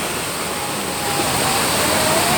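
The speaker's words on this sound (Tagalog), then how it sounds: "ang lakas ng agos ng tubig" Strong current of a flowing river near a beach, a loud, dense, continuous roar of rushing water close by, steady throughout.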